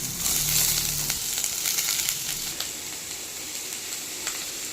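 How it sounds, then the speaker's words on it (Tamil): Vegetables sizzle as they drop into melted butter in a kadai, a bright, steady frying hiss with a brief low thump of the vegetables landing at the start, and no talking. "பட்டர் மெல்ட் ஆகிடுச்சு. காய்கறிலாம் ஆட் பண்ணிக்கலாம்."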